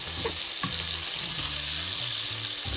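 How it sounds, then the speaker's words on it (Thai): Bacon frying in a pan, a loud continuous close sizzle with hissing spatter and a few soft clinks, no talking. "นี่เบคอนนะคะทุกท่าน เอาลงหมดเลยนะ ลงแล้วก็ทอดให้มันได้ที่นะพี่น้องนะ"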